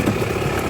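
Old two-stroke Yamaha Elsinore 250 motorcycle engine idling close by, a steady buzzy, slightly uneven putter with no voices over it.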